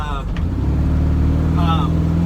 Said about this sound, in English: now you kind of hear the exhaust a little better.